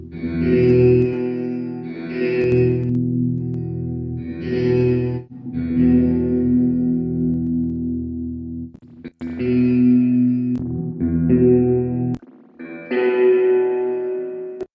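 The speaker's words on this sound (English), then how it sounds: "I got the verb cranked up here." Electric guitar chords from a Kontakt sampled guitar ring out one after another, each drenched in heavy spring reverb that leaves long, washy tails between strums.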